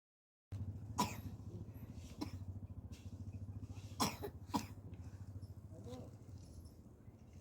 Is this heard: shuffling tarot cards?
no